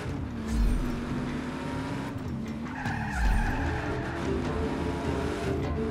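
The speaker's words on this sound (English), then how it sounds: "Good drift. Awesome drift." A car drifts in Just Cause 3 with a loud, sustained tire squeal over a droning engine, two heavier low thumps marking sharp slides along the way.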